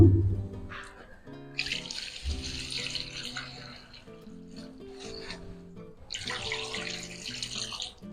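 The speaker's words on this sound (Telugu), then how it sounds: "ఇందులో వాటర్ పోసుకుందాము" Water is poured into a bowl of onion greens sprinkled with turmeric, coming in two splashy bursts separated by quieter stirring and rubbing.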